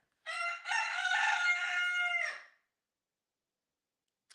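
A rooster crowing once, a loud, drawn-out cock-a-doodle-doo lasting about two seconds with a brief break near its start, followed by silence.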